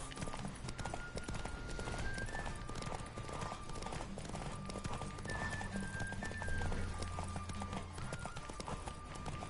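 A horse gallops hard in a race in the video game The Witcher 3, with rapid, steady hoofbeats and rushing movement throughout, plus occasional whinnies and faint voices underneath.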